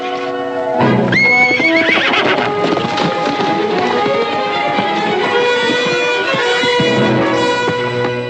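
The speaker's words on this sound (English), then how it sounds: "What a horse." A horse whinnies loudly with a long, rising neigh, followed by steady hoof clip-clops continuing close by throughout.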